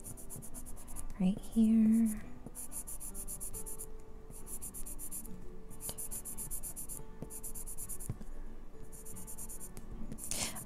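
Holbein colored pencil smoothing smoke blue onto paper in close, repeated scratchy strokes with short pauses between them, plus a brief murmured voice early on.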